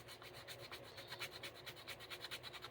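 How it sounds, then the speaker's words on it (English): Steady, rhythmic rasping of sandpaper rubbed back and forth in quick strokes over Bondo body filler, close by and fairly quiet, with no voices. "regular old sanding paper will dang sure get the job done"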